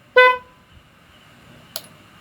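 A Motor Star 125 motorcycle horn gives one short, bright, nasal beep up close, followed by a faint click in an otherwise quiet setting.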